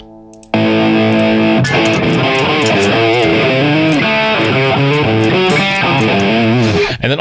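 A distorted electric guitar through an Amplitube 5 amp simulation plays a crunchy, overdriven, mid-heavy riff at full volume, starting after a brief quiet moment and ringing out steadily.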